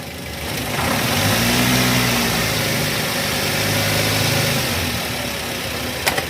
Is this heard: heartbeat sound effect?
no